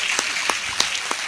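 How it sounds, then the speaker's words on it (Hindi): Applause rises from the audience at a Hindi poetry recital, a steady wash of clapping with a few sharper individual claps standing out. "एक बार ताली बजाइए"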